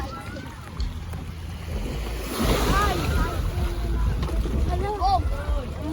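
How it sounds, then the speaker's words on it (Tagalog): Water sloshes and laps around a wooden bangka boat at the shore in Sablayan, Occidental Mindoro, with steady wind buffeting the microphone while several people chat and call out nearby throughout. "sasampan na kami sa bangkang sasakyan namin"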